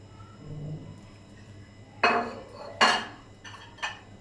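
Mutton is added into a metal pressure cooker, producing three sharp metallic clanks and clinks close by, spaced about a second apart over a quiet kitchen background.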